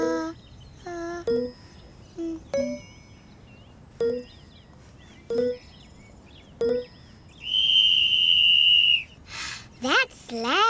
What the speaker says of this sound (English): I know, it's a whistle.